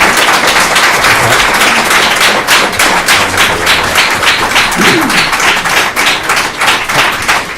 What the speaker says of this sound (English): I know everyone is going to want to applause.